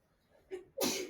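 A single sneeze, with a short sharp inhale followed by a loud, breathy burst, close by in a quiet classroom.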